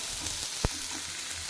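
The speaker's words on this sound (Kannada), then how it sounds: "ಒಂಚೂರು ತವಾಗ ಒಂದು ಸ್ವಲ್ಪನೂ ಕಚ್ಚಿಲ್ಲ, ಅಷ್ಟು ಚೆನ್ನಾಗಿ ಬರ್ತಾಯಿದೆ ಫಿಶ್" Fish fries on a tawa with a soft, steady sizzle and faint crackle, broken once by a brief sharp tap, quiet and with no voices.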